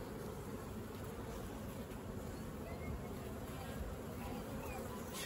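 A steady, close buzz of honeybees fills the air around an opened hive with brood frames, a continuous droning hum without pause, no talking heard.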